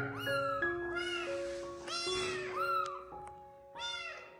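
A kitten meows repeatedly in close, clear, high-pitched cries with short pauses between them, one after another and with no talking over them.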